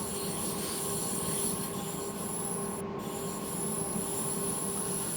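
A DB BR442 electric train in Train Simulator, Mittenwaldbahn route, rolling downhill as it accelerates: a continuous loud rumble of wheels on rails with steady tonal whine and squeal, heard alone without talk.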